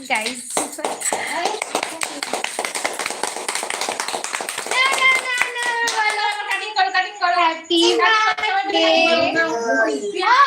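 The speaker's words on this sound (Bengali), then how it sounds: "হাততালি দিয়ে দিন" A group claps hands at a home birthday celebration with a cake, a quick run of sharp, close claps through the first half, then lively voices and children's chatter mixing with the clapping toward the end.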